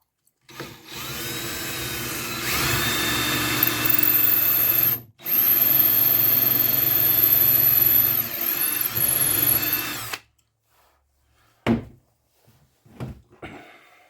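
A power drill drives screws into a wooden miter saw station, two long loud whirring runs with a brief break, followed by a few short bursts and knocks near the end.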